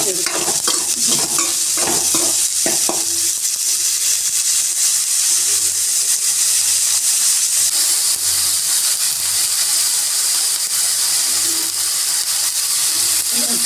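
Shallots sauté in a hot pan for mutton chukka, a continuous loud sizzle and hiss with a few sharp stirring scrapes and clinks near the start.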